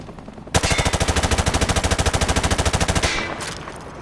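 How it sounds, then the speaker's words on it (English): Rapid automatic gunfire aimed at targets in Call of Duty Modern Warfare: one loud, sustained burst of evenly spaced shots lasting about two and a half seconds, with no talk over it. "Turn around and fire at the targets."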